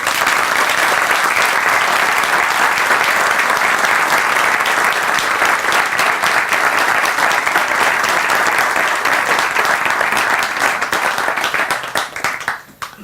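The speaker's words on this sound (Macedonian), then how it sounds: "Ве замолувам за еден огромен аплауз за сите нив" A large audience at a Romaversitas event on the Roma people gives sustained, dense applause that stays loud and even for a long stretch, then thins out and fades near the end.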